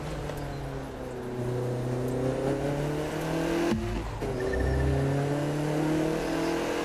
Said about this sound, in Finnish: tässä on todella huikeet nämä moottorien äänet joka autolla